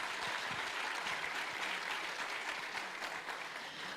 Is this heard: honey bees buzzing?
no